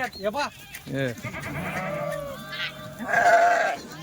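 Goats and sheep packed in a vehicle give several loud, wavering bleats close by, mixed with a man's speech.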